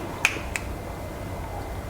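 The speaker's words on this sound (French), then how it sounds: "quand on claque les doigts" Two sharp finger snaps in quick succession, the first louder than the second, each a crisp isolated click against a quiet background.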